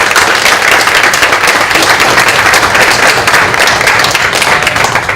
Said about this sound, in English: why don't you guys give everybody an applause for these guys?